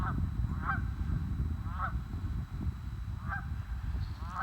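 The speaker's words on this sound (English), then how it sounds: "have a group of geese here" Geese honk at Gay City State Park, a family of six giving about five loud, nasal calls spaced through the stretch over a low outdoor rumble.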